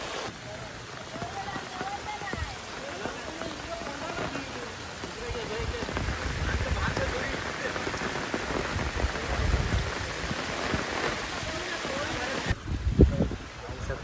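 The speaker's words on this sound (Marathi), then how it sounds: "आणि अजूनसुद्धा पाऊस पडताच आहे." Heavy rain pours down on a riverside village during a major flood, a dense, steady roar of drops hitting water and surfaces that continues throughout, with a brief louder knock near the end.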